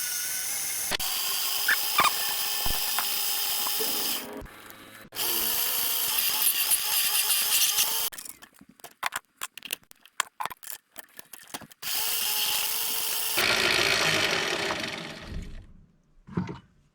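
A metal part faced off on a lathe while building a desktop orrery gearbox: a steady loud machining whir broken by pauses and bursts of chattering cuts, no talk.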